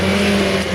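A race car drives past the finish line at the end of a junior final in Boden, heard from the spectator area. The engine gives a steady, strong drone throughout, with no talk.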